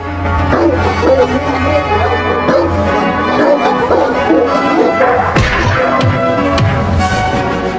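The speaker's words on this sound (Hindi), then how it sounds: "अरे ये क्या, कुत्ते बच्चों को डरा रहे हैं।" Cartoon dogs barking and yipping repeatedly over busy, dense animated-show audio, the barks coming in loud bursts amid music and effects.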